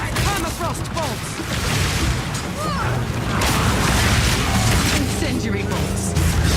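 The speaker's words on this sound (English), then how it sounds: "Incendiary bolts." Punchy bursts of incendiary crossbow bolts fire and explode one after another in Path of Exile 2. The shots land over a dense bed of combat noise, with crackling impacts and booms.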